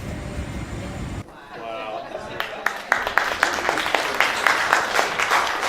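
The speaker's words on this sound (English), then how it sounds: "Gus Fring would get a clap." Wedding guests break into scattered applause for a best man's speech, sharp claps building after a low rumble, with murmured voices in the room.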